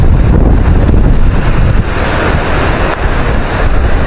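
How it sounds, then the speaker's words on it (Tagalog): Loud, steady southwest monsoon wind by the sea during a typhoon buffets the microphone in a continuous roar, with a surf-like rush underneath and no voices. "Grabe yung lakas ng hangin, habagat."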